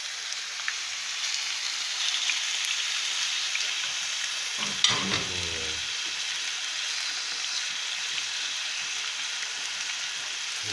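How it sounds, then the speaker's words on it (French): A steak frying in a pan gives a steady, loud sizzle that runs unbroken throughout, with one brief knock or scrape near the middle and no voices. "nous mettons le steak à cuire"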